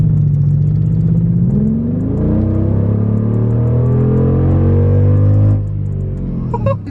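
A V10 engine, bought cheap and just repaired, revs loud and close. Its pitch climbs smoothly, holds at a high steady drone, then drops away near the end, with a faint whir and clatter beneath.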